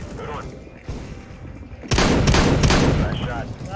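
Gunfire in the video game CS GO comes in a quick burst of sharp rifle shots, loud and close, after quieter game ambience, with a voice speaking briefly.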